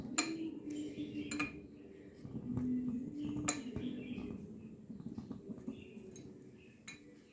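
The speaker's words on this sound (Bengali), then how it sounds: "এবার ভালোভাবে এটাকে নেড়ে নেব।" A spoon scrapes and taps inside a pot while wax is stirred into heated mustard oil, giving soft irregular metallic clinks over a low hum.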